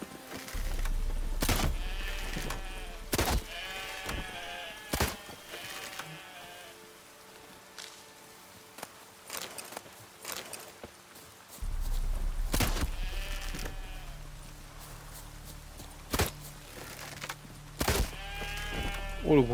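In The Witcher 3, sheep bleat again and again over a low rumble, with repeated nearby calls and sharp clicks scattered through it, and a quieter gap in the middle.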